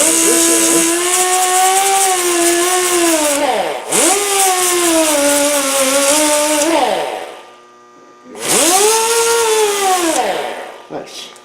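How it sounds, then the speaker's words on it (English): A rotary power tool sands paint off a metal part in a workshop, its loud whine rising and dipping in pitch as it bears on the workpiece, cutting out for a moment before starting up again. "Sand the paint off of here, so we make sure we have a good electrical connection"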